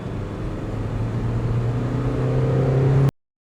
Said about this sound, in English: So now we're revving on the second gear, upshifting to third.